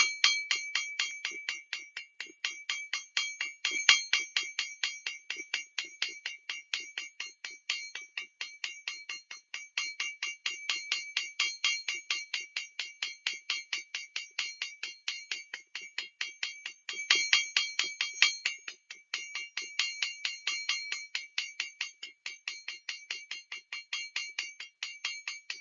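Small flat and round hammers tap a copper ring to texture it, producing a long series of rapid, bright metallic clinks in steady rhythmic bursts, close and alone.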